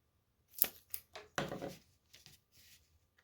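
Scissors cut through cardstock for a dual inner pocket card: a few close, quiet snips and a short rasping slice, then softer clicks as the paper is handled.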